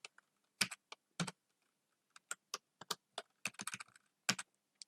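Crisp, close clicks of a computer keyboard being typed on in short irregular bursts, some keys struck harder than others, in an otherwise quiet room.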